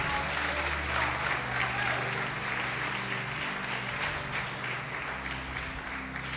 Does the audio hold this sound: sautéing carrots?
no